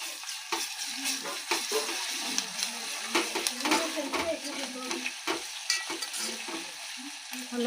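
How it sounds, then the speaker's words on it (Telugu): Ginger garlic paste fries in a pan for a chicken dish, giving a continuous close sizzle with crackling pops and the scrape of stirring, with no voices. "ఇప్పుడు అల్లం వెల్లిపాయ పేస్ట్ వేసుకుందామండి."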